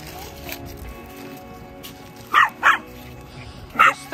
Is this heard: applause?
no